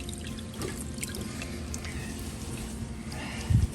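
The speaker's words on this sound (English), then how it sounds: "So we're gonna fill it with like a cooler water." Washing machine filling with cool water: a soft, steady rush and trickle of running water continues throughout, fairly faint, with a brief louder splash or bump near the end.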